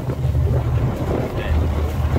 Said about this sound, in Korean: 바람이 많이 불고 있고 배가 너무 밀립니다.